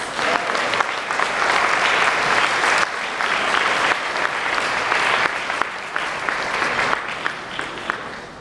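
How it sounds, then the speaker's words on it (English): An audience at an annual honoring and cultural celebration applauds honoree Anthony Bells, a full dense round of clapping that holds strong and even throughout, with scattered louder individual claps. "Can we all give a round of applause for Anthony Bells?"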